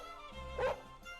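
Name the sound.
dog barking, Jack Russell Terrier, from a video game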